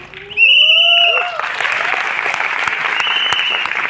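Audience applause at a success seminar in Delhi: a short rising electronic whoosh with bright tones opens it, then dense, steady clapping from a large crowd fills the rest at an even, sustained level.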